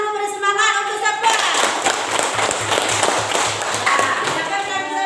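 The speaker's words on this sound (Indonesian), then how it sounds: "tepuk tangan dulu beri semangat untuk siapa?" A classroom of students claps together to cheer someone on, a steady dense patter of hands that holds loud and close throughout, with voices mixed in underneath.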